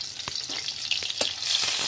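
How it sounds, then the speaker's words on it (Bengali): Chopped onions fry in oil in a wok with a steady hissing sizzle, punctuated by quick scraping stirs of a spatula, close and moderately loud. "পেঁয়াজটা ভালো করে ভেজে নেব।"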